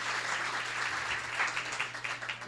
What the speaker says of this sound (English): Let's give Courtney a separate round of applause for her great work.